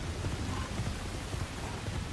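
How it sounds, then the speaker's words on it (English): Rain falls steadily in Assassin's Creed Shadows, a soft continuous hiss with a low, faint thunder rumble underneath, no voices. "The atmosphere sound effects are so good. Like the rain and the thunder"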